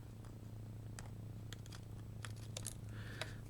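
Scissors snip through card to trim overhanging fence pieces in papercraft, several faint, quick cuts spaced irregularly over a quiet steady background hum.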